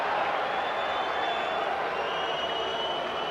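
A large crowd at a 1986 hockey World Cup semi-final between England and West Germany gives a steady roar of cheering and applause, dense and sustained throughout, heard from a distance as a broad wash of noise.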